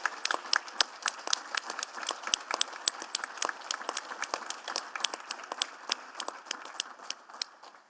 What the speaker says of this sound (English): And round of applause for everyone who was involved